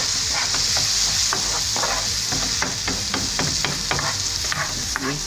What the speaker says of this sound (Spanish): también vamos a esperar que dore este ajo